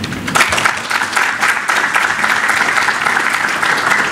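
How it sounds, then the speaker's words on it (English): A conference audience at a hacker convention gives a round of applause, full, continuous clapping from a large crowd that stays loud and steady for the whole stretch. "So give him a round of applause, please."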